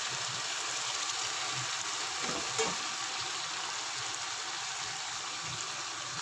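Ginger-garlic paste, green chili paste and tomato paste fry with golden onions in a pan for a chicken and chickpea curry, giving a soft, continuous low sizzle with faint stirring scrapes, fairly quiet and close.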